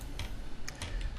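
A handful of light, separate keystrokes on a computer keyboard as a math answer is entered, close and fairly quiet, ticking irregularly over a low background hum with no talking.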